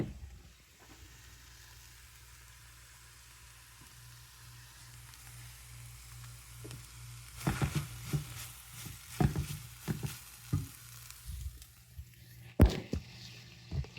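Shrimp and vegetables sizzling in a pan for low-carb drunken noodles, a soft steady frying hiss with a faint hum, joined partway by clattering stirs and utensil knocks.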